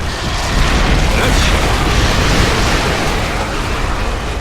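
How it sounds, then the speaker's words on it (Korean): A loud, sustained explosion rumbles through a StarCraft II campaign mission on the Shattered Sky level, a dense broadband roar lasting several seconds with faint game voices beneath. "자, 이제 폭발한다."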